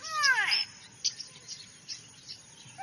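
A grey, cockatiel-like bird gives a short, bright, sweeping call that seems to say 'go away', followed by a few faint scattered chirps against a quiet background.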